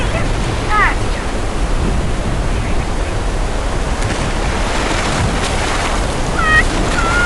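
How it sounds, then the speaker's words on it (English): Steady rain falls in a Minecraft world as a broad, even hiss, with a few faint chirps near the start and the end. "so I apologize for the rain as we"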